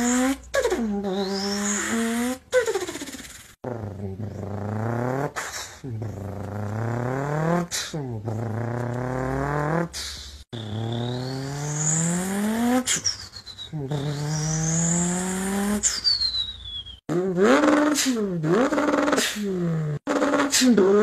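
A voice imitates a turbocharged car engine by mouth, with rising and falling revs, spool-up whooshes and turbo whistles, loud and close in several bursts separated by short pauses.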